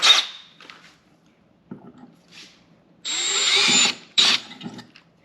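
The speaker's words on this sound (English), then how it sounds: "So I'm just going to drill that out." A power drill bores out a hole in metal during the install of a Rusty's Off-Road tire carrier on a JL Wrangler. After short squeaky bursts, a sustained high whine of about a second follows, then a final brief burst, close and loud.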